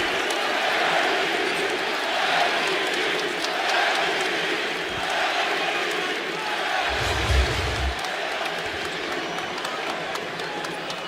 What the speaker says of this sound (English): You heard the MVP chants.